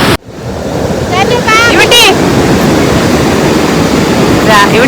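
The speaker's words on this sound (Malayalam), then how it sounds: "പ്രതീക്ഷിക്കാണ്ട് പെട്ടെന്ന് വലിയൊരു തിര വന്നത്" Ocean waves surging onto the shore at a beach near a temple, a loud continuous roar of surf with wind buffeting the microphone and faint distant voices.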